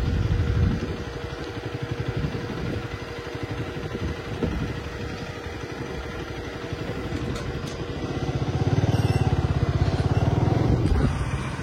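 A new motorcycle idles close by, its engine giving a steady low throb that swells louder toward the end, with no talking over it.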